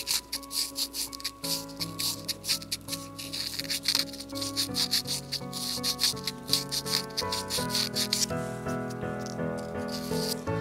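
Sandpaper rubbing over a small handmade miniature bowl, working the inside surface with coarse 220-grit paper, a steady close scratchy rasp in repeated strokes under a backing of sustained music, with no talk.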